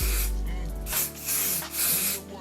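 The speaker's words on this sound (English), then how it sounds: "I'll just go in and spray the rest of this actually." Hairspray hissing from an aerosol can onto a lace frontal wig, a steady close spray broken into several bursts of a second or so each.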